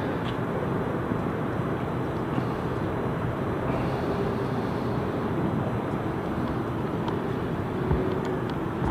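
Luxair aircraft with a special livery at London City Airport, heard as a steady, broad, continuous jet engine roar at fairly constant loudness throughout, with no voices.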